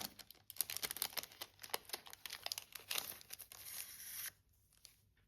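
Crinkly plastic packaging of an embroidery bookmark kit being unwrapped and torn open close by, a busy run of crackles and rips that stops abruptly near the end.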